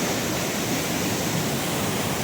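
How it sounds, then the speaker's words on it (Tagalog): River flowing near a cave, a dense continuous rushing wash of water, steady and fairly close with no other sounds over it. "Ayan ang ilog."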